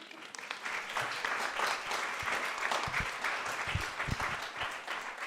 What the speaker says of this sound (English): Should we have another little round of applause?